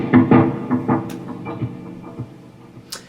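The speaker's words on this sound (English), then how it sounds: "I've got a dotted eighth delay set to around" An electric guitar played through overdrive, a compressor and a dotted eighth delay near 78 bpm with a fair mix and many repeats gives a few picked notes whose echoes ring and fade, alone without talking.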